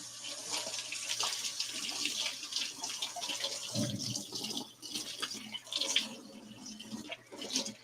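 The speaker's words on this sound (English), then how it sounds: "I'm going to take just a second to go wash my hands real quick" Water runs from a sink tap while hands are washed, a continuous hissing stream with shifting splashes and one brief deeper gush partway through, moderately close, no voices.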